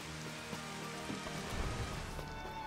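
Rain falls in Final Fantasy XV, a soft, steady patter on surfaces with faint scattered drops, fairly quiet and without voices.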